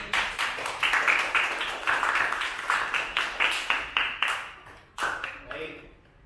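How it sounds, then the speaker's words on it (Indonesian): Classroom students clap together after a group's presentation, a dense rhythmic burst of many hands close by that keeps going for several seconds, thins out and ends with a few scattered final claps. "beri aplaus yang meriah"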